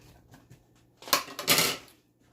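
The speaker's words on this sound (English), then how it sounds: "I'm going to dump in my onion" Chopped onion hits a hot dry pan with a brief burst of rattling clatter and sizzle, two close bursts lasting under a second, then fading to quiet.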